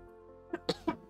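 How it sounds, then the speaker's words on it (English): Several short, sharp coughs in quick succession, close and fairly loud, over a faint background hum. "I hate this cough."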